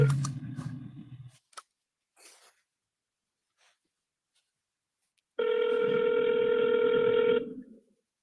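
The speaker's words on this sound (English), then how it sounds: "I'm gonna triple dial my friend here." A phone call is placed. After some brief noises and a pause, a single loud, steady electronic ring tone sounds for about two seconds, close and clear.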